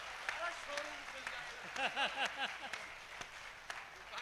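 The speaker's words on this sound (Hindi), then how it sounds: "केवल इतनी सी बजा दीजिएगा जिससे मेरी दुकान चल जाए।" An audience at a Hindi comic poetry gathering in Rajasthan claps faintly and sparsely, with scattered hand claps under a voice talking nearby.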